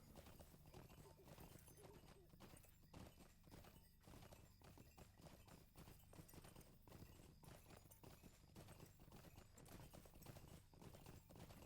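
War steed hooves in the online game Lord of the Rings Online make a steady, quiet clip-clop rhythm throughout, with faint game ambience behind it.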